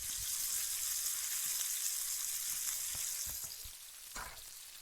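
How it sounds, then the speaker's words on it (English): Bacon and eggs sizzling and crackling in a pan, a steady dense hiss of frying fat that eases slightly toward the end, with no voices. "It's bacon and eggs sizzling for ASMR breakfast crackle white noise 12 hours."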